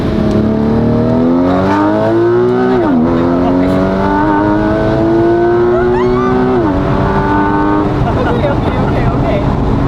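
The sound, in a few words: Porsche GTS Street Cup engine revving while driving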